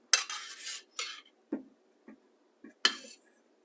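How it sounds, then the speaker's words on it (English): Three tablespoons of bacon grease spooned into a pan on the stovetop for Southern turnip greens, heard as a series of separate metallic scrapes and clinks of the spoon against the pan with silence between them. "we'll put 3 tablespoons of bacon grease in the pan"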